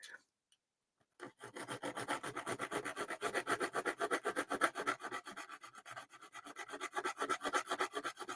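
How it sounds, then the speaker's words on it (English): A small file rasps back and forth across the underside of a screw head to remove a burr, a close, rhythmic series of scraping strokes after a short silence, no voices. "just trying to file off the little burr from the back of the screw, the head, where that screw was attached"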